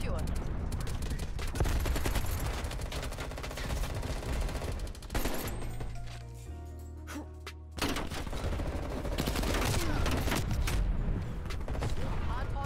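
Dense bursts of automatic gunfire and booming explosions fill a chaotic Black Ops Cold War multiplayer match, loud and nearly constant, with a short low rumbling lull in the middle before the firing resumes.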